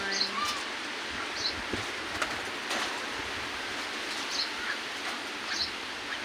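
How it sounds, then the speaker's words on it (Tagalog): Birds in a park laid out like a farm give sparse, faint chirps and calls at a distance over a steady outdoor hiss, with a few soft rustles between the calls. "Ang ganda ng mga ibon."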